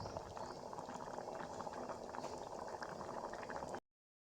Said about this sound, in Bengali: বন্ধুরা দেখতেই পাচ্ছ ফুটছে